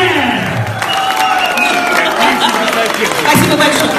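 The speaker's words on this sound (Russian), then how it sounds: "аплодисменты!" An audience at a stage event applauds with steady, dense clapping and a few cheers, while a presenter's voice carries over it.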